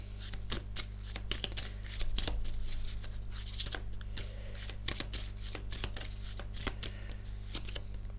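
A tarot card deck being shuffled close up, with a steady run of crisp riffling card flicks and slaps over a low background hum.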